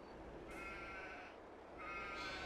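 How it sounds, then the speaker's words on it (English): Sheep bleating in the Farming Simulator 22 video game, two faint, drawn-out wavering calls at a distance over a steady low background hum. "See if I can get close enough to get these sheep in."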